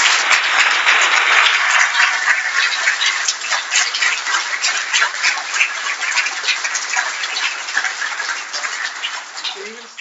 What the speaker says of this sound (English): I'd like you all to put your two hands together and give Joe a big applause